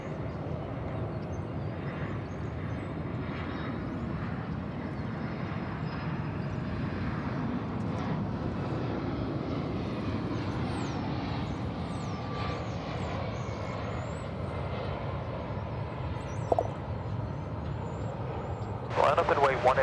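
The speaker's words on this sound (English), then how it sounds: "It'll be a 767 now arriving on runway 18 right on runway DFW." A UPS Boeing 767 airliner arriving and landing on runway 18 right at DFW Airport: a continuous broad engine roar that stays fairly loud and steady throughout, with a voice speaking over it.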